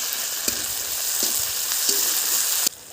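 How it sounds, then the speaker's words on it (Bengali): A spice paste of garlic, ginger and cumin with tomato frying in a pan, a steady loud close sizzle with a few scraping stirs of a spoon spread across it, no voices, ending abruptly. "মশলাটা ভাজা হয়ে গেছে,"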